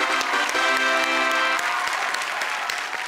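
Steady, loud audience applause at a Hindi comic poetry gathering (hasya kavi sammelan), dense clapping throughout with a short musical tone ringing beneath it early on.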